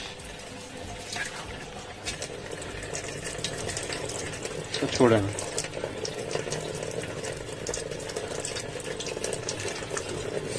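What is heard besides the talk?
water filling a tank from a small pump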